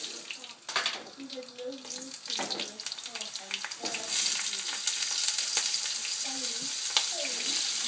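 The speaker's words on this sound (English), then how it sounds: "you have to be very careful when you fry with oil" Aubergine pieces frying in hot oil for a kabsa dish, with a steady crackling sizzle that grows denser over several seconds while occasional clinks and stirring sounds come and go.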